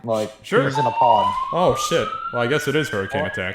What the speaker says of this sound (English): I was streaming and there's a siren going off in my apartment building.